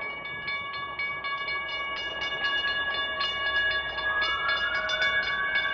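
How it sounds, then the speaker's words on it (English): A train passes close by a roadside where someone rides an e-bike, its steady rumble carrying a sustained horn or whistle tone with shifting pitch, loud and alone without talk. "Oh, got a train here."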